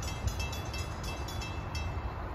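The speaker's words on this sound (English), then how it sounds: "457 approaching now, that same Silverliner 5 set we saw earlier" A SEPTA Silverliner 5 commuter train bound for Malvern approaches on a rainy day in Bucks County, Pennsylvania, its steady rumble rising into a broad, continuous rush with faint rhythmic clatter and no voices.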